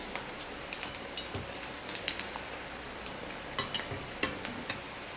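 Bondas frying in hot oil, a soft steady sizzle with light, irregular ladle taps and scrapes as the pieces are turned, close and fairly quiet, with no talk.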